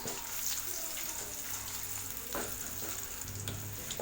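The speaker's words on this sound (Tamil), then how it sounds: "பூண்டு லேசாக வதக்கி விடலாம்." Crushed garlic sautés in a pan for a small onion curry, a steady soft crackling sizzle like light rain with occasional faint stirring scrapes, close and continuous.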